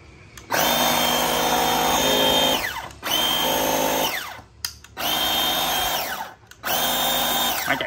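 Dewalt DCPW550B 20V battery pressure washer, 550 PSI, running in four loud bursts of high motor whine and spray, each about two seconds long with short pauses between.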